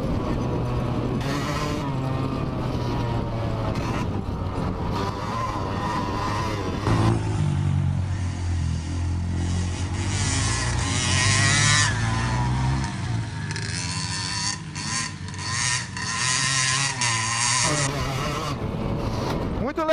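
A Yamaha DT200R motorcycle is ridden at speed, its engine droning and revving up and down through gear changes, loud and close throughout, mixed with wind rush and a voice talking at times.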